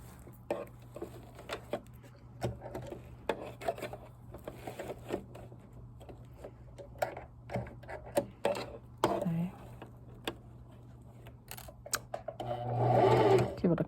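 A sewing machine stitches elastic into a prom dress during a back-bunching alteration, with short bursts of rapid needle clatter broken by pauses, close up over a steady low hum, and a louder final run.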